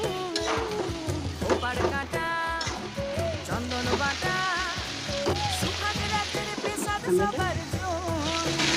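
Jackfruit seeds, potato and vegetables with garlic and turmeric frying in a pan for a dry fish dish, a steady sizzle running beneath continuous music, with no voices.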